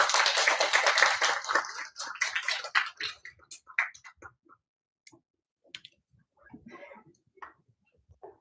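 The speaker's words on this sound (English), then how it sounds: "A beautiful round of applause" Applause from an audience at a university business-pitch competition qualifier, loud and dense for about three seconds before thinning to scattered, fading claps with brief quiet gaps.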